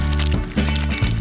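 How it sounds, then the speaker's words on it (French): White chocolate melts in a saucepan as it is stirred, giving a continuous close sizzling, bubbling texture with soft rhythmic stirring scrapes and a low hum underneath. There is no talking. "J'ai besoin du chocolat blanc que je vais le faire fondre dans une casserole."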